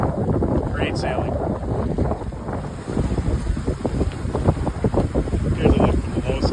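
Sailboat on a fast reach toward an island, with steady wind buffeting the microphone and rushing water along the hull, continuous and fairly loud throughout.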